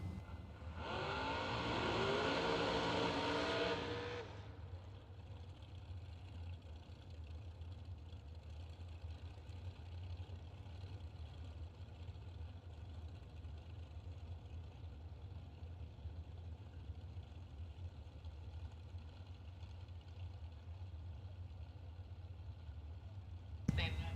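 Drag race cars roar down the strip at a drag racing event, a loud blast for the first few seconds before fading to a steady distant engine rumble and crowd ambience.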